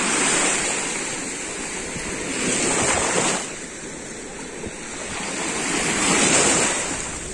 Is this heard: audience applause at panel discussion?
no